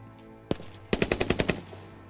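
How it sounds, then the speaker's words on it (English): Gunfire in the tactical shooter Squad, heard as a single sharp crack followed by a fast burst of about seven rapid shots, loud and close, with no talk over it. "You hear that? There's a sniper on the roof directly to our 300."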